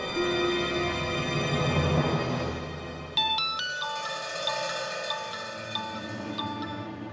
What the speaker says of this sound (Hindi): सुलोचना काकू का फोन